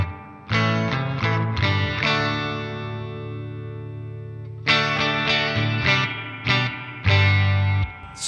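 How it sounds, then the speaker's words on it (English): A guitar played through a Danelectro Spring King Junior spring reverb pedal: a few strummed chords that ring out into a long, washy decaying tail, then more chords in a steady rhythm, loud and close with no talk. "It's just its own thing, isn't it, spring reverb?"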